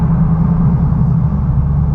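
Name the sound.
Dodge Challenger Hellcat engine rumble, 1,000 horsepower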